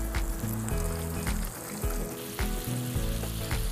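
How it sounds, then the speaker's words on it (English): An onion deep fries in a deep fryer, a loud continuous sizzle and bubbling crackle heard up close, with occasional low stirring thumps. "You're gonna flash fry it for about 15 seconds until it gets golden on the top."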